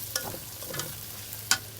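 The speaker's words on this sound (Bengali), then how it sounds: "অনেকক্ষণ ধরে কষিয়ে নিয়েছি, আমি পানি দিইনি, কিন্তু ভাজা ভাজা হয়ে গেছে" Meat, potatoes and garlic frying dry in a pan for kala bhuna, a soft, steady sizzle broken by a few faint scrapes of a stirring spoon, with no talking.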